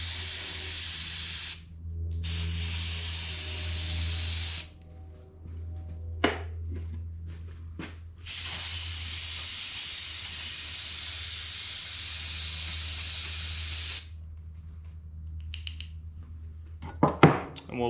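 Carburetor cleaner sprays in long steady hissing bursts into the carburetor bowl of a weathered Kohler 6.5 engine left outdoors for years, with short pauses between sprays and a few light metallic clicks near the end.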